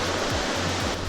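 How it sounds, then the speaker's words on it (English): Roaring white water from river rapids during a rafting trip in Snowdonia, Wales, a steady loud broadband rush close by with no clear voices. "Good bit of rapids actually."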